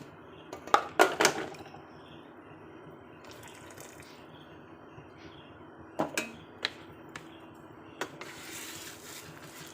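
A utensil stirs poppy seed paste into a thin sour green mango soup with lemon leaves, making a few clinks against the pot and soft liquid sloshing between quiet pauses.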